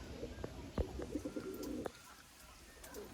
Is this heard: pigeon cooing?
yes